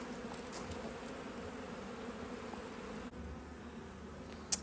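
Honey bees hum in a steady, low, dense drone around a HiveIQ hive, faint and continuous with a few individual bees passing closer.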